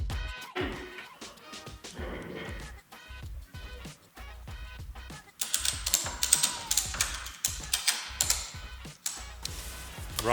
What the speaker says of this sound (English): Ratchet straps are pretty useful.